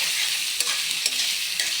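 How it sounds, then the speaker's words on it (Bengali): Onion and green chili fry in a wok for pabda fish bhuna, a continuous close sizzle with a few soft stirring scrapes and no voices. "পেঁয়াজ কাঁচামরিচ কষি নিয়ে ভালো করে ভাজা করে নেব"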